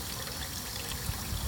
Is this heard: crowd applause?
no